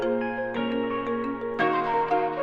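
Synth flute melody from a hip-hop beat's Arcade Mountain Palace preset in FL Studio, sustained tonal lines over a steady bass, loud and continuous with a second phrase entering partway through, no talking.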